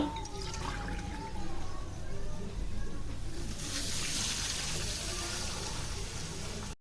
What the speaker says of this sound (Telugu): నేను ఒక గ్లాస్ నీళ్ళు పోస్తున్నాను